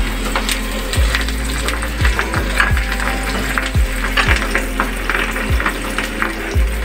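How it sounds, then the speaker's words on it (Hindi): Green chillies frying with garlic in a pan for Singaporean rice, giving a steady loud sizzle with repeated scraping and stirring knocks throughout, no talk. "अब इसमें मैं ये ग्रीन चिलीज़ ऐड कर दूँगी"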